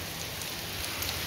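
Heavy rain falls steadily outside a rented house, a dense, loud, continuous hiss with scattered drops and no voices.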